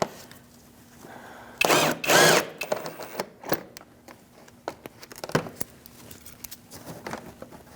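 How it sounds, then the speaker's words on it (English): A ratchet or power tool on an 8mm socket spins out splash shield bolts under a 2008-2014 Mercedes-Benz C300, a loud buzzing burst early on followed by scattered clicks and taps of loosening hardware, close by and without speech. "I'm using an 8mm socket to remove these"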